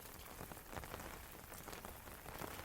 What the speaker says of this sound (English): The rain, the soft whistle of air, the faint pitter-patter of droplets on the leaves.